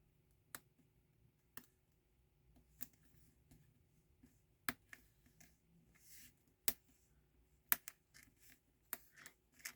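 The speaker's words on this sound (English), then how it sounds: "That noise is my fingers touching the sticky and then coming back off again." Fingers pressing onto sticky adhesive while making a floral paper card, then pulling off: sparse, faint, sharp clicky ticks spaced irregularly across a quiet background, close up, with no talking.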